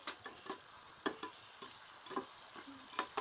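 Small shrimp being stir-fried with spices in a pan, giving a faint, soft sizzle with light irregular scraping taps of the spatula every half second or so.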